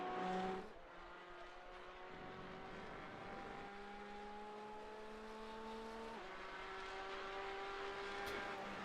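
The number 4 touring car from the STCC series laps Silverstone circuit, its engine droning steadily and rising in pitch through several gear changes, heard from onboard, loud and constant.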